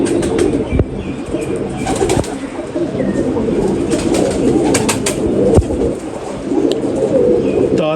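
Pigeons coo in a loft, low repeated cooing calls from several birds close by, with occasional wing flaps and sharp knocks breaking through the steady murmur.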